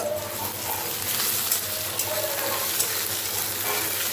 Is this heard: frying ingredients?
yes